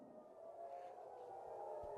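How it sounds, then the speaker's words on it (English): A faint, distant civil defense siren wails steadily with a slow rising pitch over Tel Aviv, sustained throughout against a muffled background. "you can probably hear those sirens going off here in Tel Aviv."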